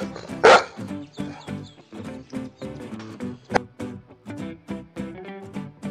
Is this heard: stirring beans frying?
no